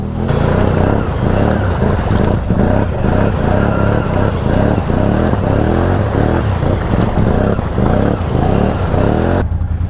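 A 2023 Can-Am Outlander 850 XMR ATV crawls through nasty off-road mud, its engine droning loud and steady with rhythmic pulsing bursts of throttle for the full stretch; a voice speaks briefly over it.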